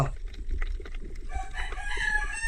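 A chicken clucks and calls briefly nearby over a low rumbling background.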